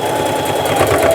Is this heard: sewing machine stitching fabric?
yes